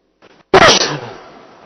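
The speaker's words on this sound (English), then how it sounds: "It must be a very loud sneeze for you." A single loud, close sneeze bursts out after a faint breath, trailing off quickly into quiet.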